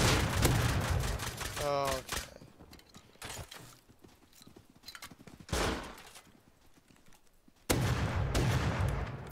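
Several sharp, loud double-barrel shotgun blasts in the survival game Rust, clustered near the start and end with quieter gameplay noise and a brief exclamation between them.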